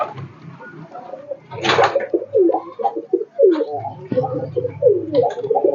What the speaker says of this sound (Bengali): এই যে শাটিনের বাচ্চা, এটা শাটিন পায়রার বাচ্চা।